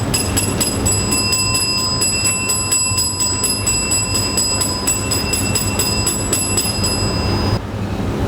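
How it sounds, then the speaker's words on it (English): Rapid continuous electric division bell ringing in a youth parliament chamber, bright and loud, sustained for several seconds before cutting off abruptly. "Ring the bells."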